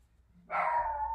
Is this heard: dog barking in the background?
yes